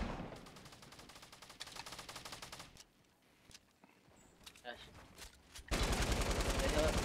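Pistol fire in Fortnite comes as fast, rapid bursts of shots in volleys. They pause midway and then return in a louder, denser stretch, with people talking faintly in the background.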